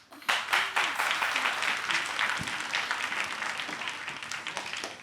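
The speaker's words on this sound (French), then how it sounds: "On va encore applaudir Benjerville" A crowd applauds after a group's performance at a Quranic recital contest's first elimination round, with bursts of clapping starting abruptly and holding as a dense, lively roar that slowly thins toward the end.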